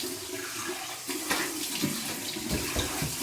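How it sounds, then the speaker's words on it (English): Cold tap water runs steadily into a sink for a rinse after shaving, a close, continuous splashing rush with slight shifts as hands move through the stream, with no talking. "And here is my cold water rinse."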